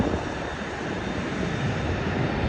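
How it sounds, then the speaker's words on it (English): Airbus A380 airliner engines roar as a steady, loud broadband rumble and hiss at the airport ramp, continuous and close with no voices. "I don't think you know how big this plane is"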